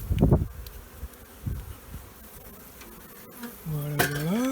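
Honey bees hum in a continuous, fairly close buzz during a spring hive inspection while frames are cleaned, with a few thumps at the start and a single rising buzz near the end.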